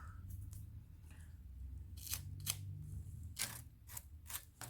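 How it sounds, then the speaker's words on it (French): Light taps and dabs against a Christmas vase being decorated with glue threads, a series of short, quiet, sharp clicks clustered in the second half, close and without talk. "Vous voyez, je tapote."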